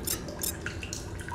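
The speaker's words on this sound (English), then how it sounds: "get a drink of water while that." Water drinking in The Solus Project, with soft drips and small liquid splashes at a quiet, irregular pace against a low ambient background.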